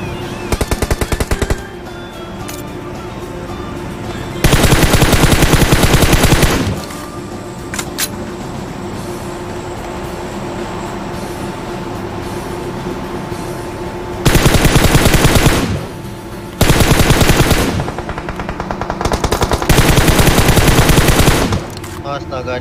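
Rapid automatic gunfire in PUBG Mobile comes in five loud bursts of a second or two each, with steady game ambience and quieter shots in the gaps between them.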